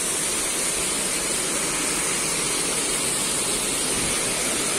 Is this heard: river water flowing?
yes